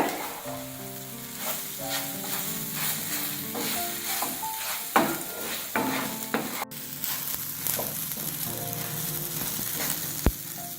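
Idli pieces coated in idli podi fry in a pan with a loud, steady sizzle, punctuated by frequent scraping and tapping from stirring.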